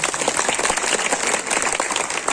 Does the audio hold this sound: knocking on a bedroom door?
no